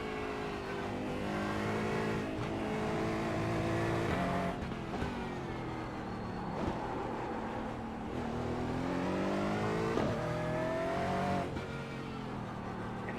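Aston Martin GT4 race car engine in iRacing, held in third gear at Winton Raceway, droning steadily with shifting pitch as it revs up and down, loud and continuous with no talk.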